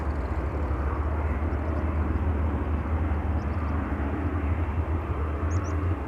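An airplane at Schiphol Airport gives a steady, loud, broadband engine roar with deep rumble, unbroken for several seconds, with no voices heard.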